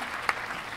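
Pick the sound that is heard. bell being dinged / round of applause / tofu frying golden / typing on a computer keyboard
round of applause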